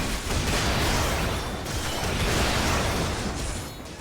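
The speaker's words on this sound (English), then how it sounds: "I feel like I could probably turn down the fighting sound." Combat in the video game Final Fantasy XIV produces a dense, loud wash of crashing impacts and blasts that runs continuously, easing off slightly at the end, with no voices.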